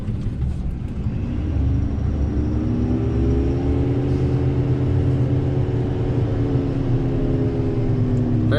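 Diesel engine of a 2019 Ford F-750 dump truck driving at a steady cruise, a loud, continuous low rumble with a droning hum that holds even throughout, no talking.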